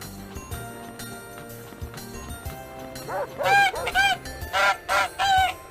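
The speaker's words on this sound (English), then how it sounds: "This bird is a snow goose." A white Arctic snow goose honks repeatedly in The Hoobs PS1 video game, with about six loud, evenly spaced honks over gentle background music.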